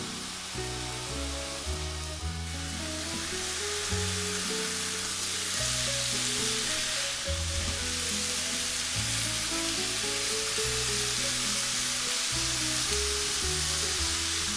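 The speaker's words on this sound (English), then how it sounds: "I can tell it's kind of browning the hamburger a little prematurely" Continuous loud sizzling of ground beef browning in a hot pan over high heat, a steady hiss with low rumbling underneath throughout.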